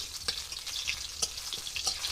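Bay leaves and dried red chillies sizzle in hot oil in a pan for Bengali khichuri, a close, fairly quiet crackle with a few sharp pops and stirring scrapes.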